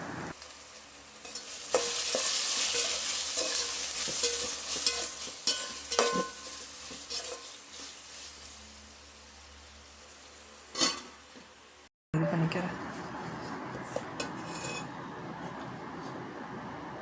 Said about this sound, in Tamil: வெங்காயம் தக்காளி நல்லா வதங்கினதுக்கப்புறம் தயிரை ஊற்றி கிண்டி விட்டுக்கிறேங்க